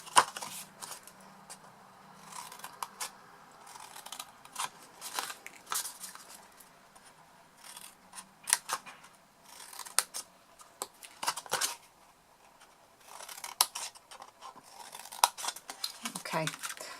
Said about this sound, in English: Cut those wedges out.